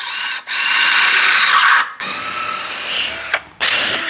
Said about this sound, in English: I'm going to run through it with a 17/64 drill bit